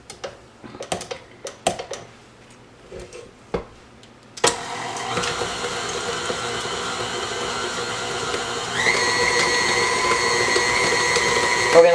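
A stand mixer whirs steadily as it beats sugar cookie dough, a constant motor drone that kicks in after some scattered clicks and knocks, rising slightly in pitch toward the end.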